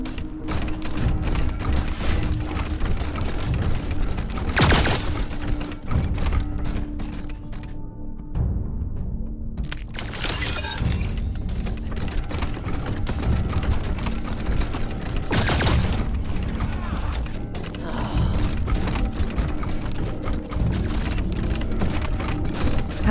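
Gunfire in the video game Wasteland 3: continuous dense crackling and mechanical clatter with several loud bursts of shots, a brief lull midway, all at high intensity with no talk.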